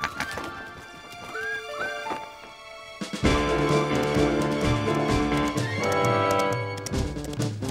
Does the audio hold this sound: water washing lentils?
no